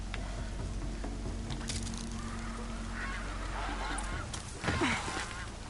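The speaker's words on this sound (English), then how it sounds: "What? Geese." Geese honk in Horizon Zero Dawn as a few short nasal calls over a low steady game ambience, with one louder honk near the end.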